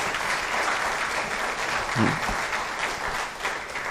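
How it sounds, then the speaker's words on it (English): A crowd claps steadily in sustained applause, dense and even from start to finish, at a budget discussion event in Ghana. "let's give him a round of applause for the job he's done for us."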